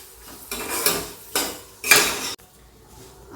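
Wheat dalia and chopped dry fruits sautéed in a pan, heard as a few sharp metal spoon scrapes and clanks against the pan in short bursts, close up, with no talking.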